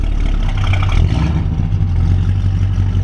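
A loud 440 V8 engine of a 1968 Dodge Coronet R/T convertible rumbles nearby as the car pulls off, the low drone steady and slowly easing.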